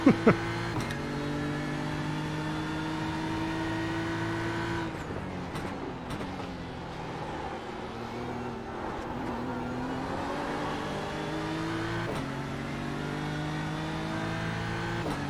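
A race car in the Australian Sports Car Championship round at Zolder drones continuously from on board, its engine pitch climbing and dropping through gear changes and accelerations, loud and steady throughout.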